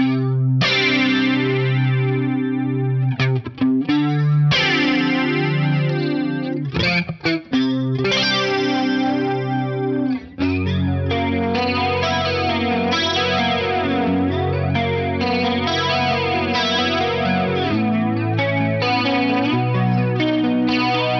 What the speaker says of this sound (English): This one was matched to a vintage 9-volt Electric Mistress that I was lucky enough to borrow.